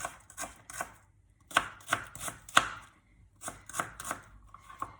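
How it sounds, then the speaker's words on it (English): A knife chops an onion steadily on a cutting board in quick clusters of sharp taps with short pauses, close by and fairly quiet. "then you cut it in half, like this, and then you just chop away"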